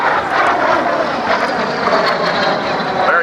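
A propeller airplane at an airshow pulling up and over the top of a maneuver, its engine drone loud and steady, close by and sustained throughout.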